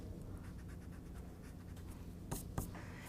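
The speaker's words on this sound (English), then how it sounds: "So let me erase this." A rubber eraser rubs out pencil lettering on paper with faint, steady scratchy strokes. A couple of sharper scrapes come near the end, close and quiet, with no talking.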